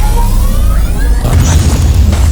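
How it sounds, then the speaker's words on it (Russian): A grenade goes off in the video game Batman The Telltale Series, a loud, dense booming blast with rumbling, crackling debris that fills the whole short moment. "Закинули сюда гранату."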